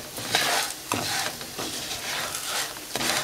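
Bulgur grains frying and being stirred in a pan for Turkish pilaf, with a steady close sizzle broken by repeated scraping strokes of the spoon at a loose rhythm.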